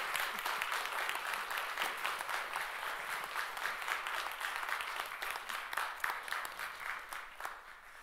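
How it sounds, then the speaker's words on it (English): A seminar audience applauds a panel steadily, a dense wash of clapping that tapers slightly toward the end. "Let's give them a round of applause."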